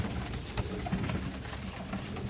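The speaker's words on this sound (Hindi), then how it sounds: "ये एक ही घर के कबूतर है माशाल्लाह।" Pigeons from a single loft coo softly amid a steady background hum. The low, rolling calls repeat through the short stretch, moderately close.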